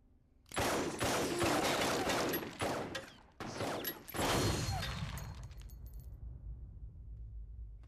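A burst of rapid gunfire from a dubbed action film crackles loudly for several seconds, pauses briefly, then resumes before fading into a low rumbling tail.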